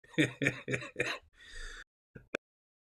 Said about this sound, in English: Here's my coughing again.